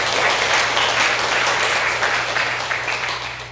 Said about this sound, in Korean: 우리 다 같이 그분들을 격려하고 감사하다는 마음으로 박수 한번 하겠습니다.